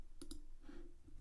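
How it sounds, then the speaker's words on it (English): Two quick mouse clicks on an on-screen button, faint and close, with a soft low hum behind them. "I'm going to start the emission by clicking this button up here."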